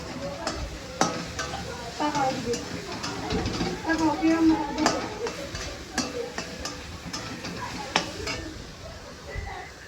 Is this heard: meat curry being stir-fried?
yes